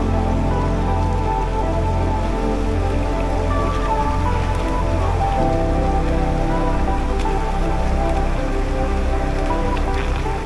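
Steady rain pours in the mountains of Sagada, a dense continuous patter of drops on surfaces that runs unbroken and fairly loud throughout, with no voices over it.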